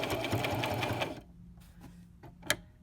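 A sewing machine stitches a fitted face mask in a quick close burst of rapid needle clatter for about a second, then stops, leaving a few faint clicks and one sharp tap.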